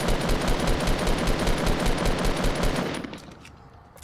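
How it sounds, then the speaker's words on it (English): Rapid automatic gunfire from the Fortnite video game hammers out in a fast, loud burst lasting about three seconds. It then cuts off abruptly and leaves near silence, with one faint click at the end. "I shot that dude 3 times."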